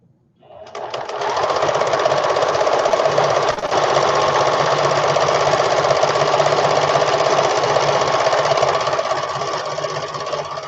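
A sewing machine runs a steady, continuous stitching burst for about ten seconds, loud and close, with a brief hitch partway through and no talk over it.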